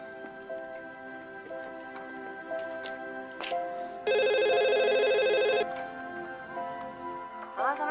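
A borrowed handphone places a call, with a steady electronic ringing tone lasting about a second and a half amid background sound and a musical bed.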